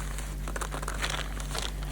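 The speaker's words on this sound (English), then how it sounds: "this is a huge plastic bag that I use when I do my laundry" A huge plastic laundry bag crinkles and crumples in close bursts of dry rustling, handled near the listener with steady low hum beneath.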